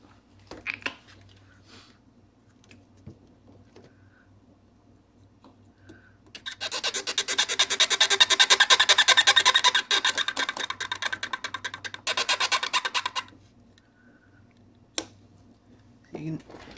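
Steady, close-up scrubbing rasps against the contacts of a Game Boy Advance cartridge come in two long bursts, with brief quiet gaps before and after.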